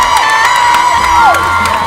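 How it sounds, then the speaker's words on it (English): Baseball fans in packed stands at a high school state championship game cheer loudly, a dense roar of shouting and whoops right up close for a couple of seconds. "Crowd's crazy. I'm telling you, the stands are packed."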